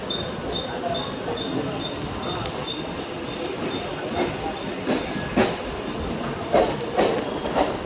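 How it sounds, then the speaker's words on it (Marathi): A local train near Neral rumbles steadily along the rails, with a continuous broadband roar and occasional clacks and squeals rising toward the end. "चलो मस्तपैकी ट्रेन पकडली आपण"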